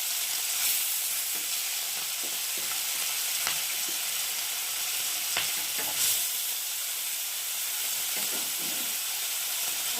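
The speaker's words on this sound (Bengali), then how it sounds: "বন্ধুরা সব মাছগুলো একে একে ভেজে নিয়েছি চিংড়ি মাছ ভাজা হয়ে গেছে" Small chuno fish and prawns fry in a pan, giving a continuous bright sizzling hiss with a few brief utensil taps, steady and close.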